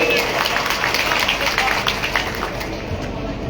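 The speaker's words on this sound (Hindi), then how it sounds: "तो जोरदार ताली बजा दो" Crowd applause at a train launch event on a railway station platform in Ratangarh, a dense wash of many hands clapping steadily throughout, with crowd murmur and voices mixed in.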